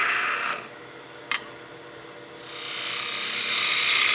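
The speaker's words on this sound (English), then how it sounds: "go to your spindle gouge, start on the bevel with that flute over, slightly closed" A spindle gouge rides the bevel across a spinning wooden Christmas gnome on a lathe, a steady close hiss of cutting that drops away for a moment, with a brief click, then returns fuller and brighter.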